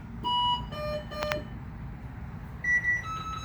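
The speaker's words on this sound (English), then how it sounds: "That's beeping at me." Several short electronic beeps at different pitches inside an ambulance, a quick cluster early on and a couple more near the end, close and fairly loud over a low hum.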